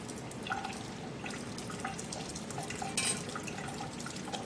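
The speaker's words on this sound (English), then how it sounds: "the next step is to rinse. Again, low pressure." Low-pressure rinse of a Gram stain slide with water: a soft, steady trickle and splatter with small drips, continuous and fairly faint.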